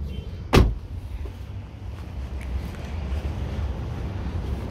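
A Nissan Patrol's door slams shut once, a single sharp thud close by, followed by quiet outdoor background with light wind.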